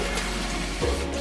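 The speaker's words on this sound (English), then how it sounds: "I'm gonna add some water" Water pours steadily into a container being filled for cleaning, a continuous close splashing rush that ends with a brief gurgle.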